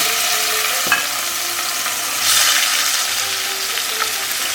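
Two hundred grams of prawns dropped into about two tablespoons of hot mustard oil give a steady close sizzle, with a few small pops rising into a brighter burst of frying partway through.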